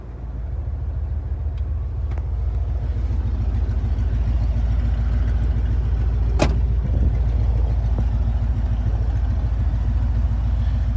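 A Ford Bronco engine with new headers and its new exhaust cutouts open idles loud and close, giving a deep, steady rumble that holds for the whole stretch with no talking.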